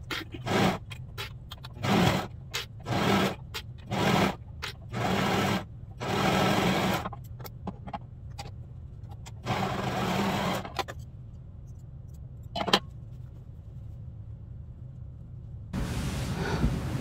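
Sewing machine stitching a pajama pant leg in rapid bursts of whirring and needle chatter, pausing briefly between runs, ending with a longer steady stretch and then quiet room tone.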